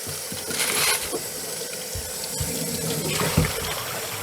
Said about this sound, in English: And usually I'll rinse with cold water to keep down the tarnishing.